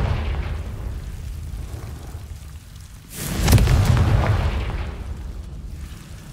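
A Confringo blasting spell explodes in the Hogwarts Legacy video game: a single deep, loud boom bursts out midway over a low rumbling background, then slowly fades.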